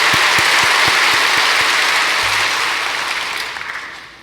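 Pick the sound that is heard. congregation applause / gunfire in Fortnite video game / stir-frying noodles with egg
congregation applause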